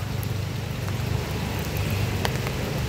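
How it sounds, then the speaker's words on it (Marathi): Heavy rain pours steadily during a prolonged Konkan downpour, a dense continuous hiss with a low rumble beneath, no voices. "नुसता पाऊस नाही पाऊस"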